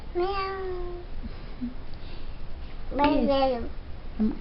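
A small child imitates a cat with two drawn-out meows, a short one and then a longer wavering one, during a puzzle game, close and clear, with an adult speaking briefly nearby.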